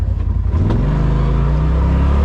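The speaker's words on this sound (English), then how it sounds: "The RZR XP Pro does not have a engine brake, but it does offer a little resistance through the engine going down the hill." Polaris RZR Pro XP side-by-side engine held in low gear while descending a steep trail, a steady close rumble that rises slightly into a sustained drone with a hint of revving throughout.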